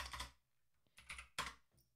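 A few faint computer keyboard keystrokes during a Microsoft account setup with a YubiKey security key, soft clicks in three small separate bursts with quiet gaps.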